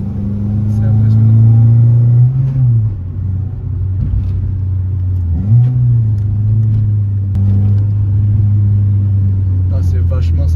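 Renault Clio 2 RS Phase 2, derestricted, engine pulling in third gear around 3000 rpm, a loud steady droning rumble with pitch dips at shifts or lift-offs, heard from inside the car while someone talks over it.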